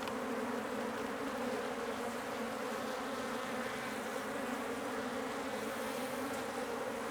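Honeybees buzz steadily and densely throughout a backyard hive inspection, a close, continuous hum from a colony with eggs and larvae, with no talking.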